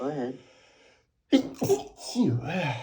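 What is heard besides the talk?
sneeze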